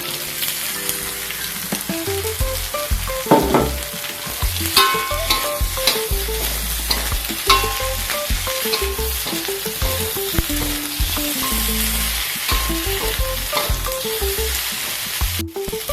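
Okra with sambal belacan stir-fries in a pan, a steady loud sizzle with scraping stirring throughout, close up, while a melodic tune plays along underneath.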